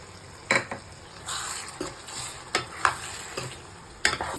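Spoon scraping and stirring in a pan as curry leaves are mixed into a sizzling egg drumstick curry, a handful of distinct clinks and scrapes over a soft, steady fry.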